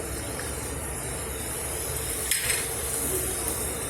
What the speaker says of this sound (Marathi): व्यवस्थित परतून घ्यायचे चांगलं